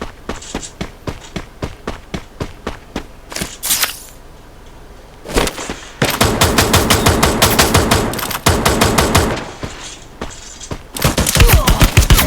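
Gunfire in the video game Free Fire: rapid automatic bursts and single shots, loud and close, with brief pauses between volleys.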